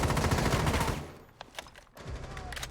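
Dense automatic gunfire in a Rainbow Six Siege esports match, loud rapid bursts that drop into a brief lull of scattered shots before firing resumes, with a commentator's voice faintly underneath.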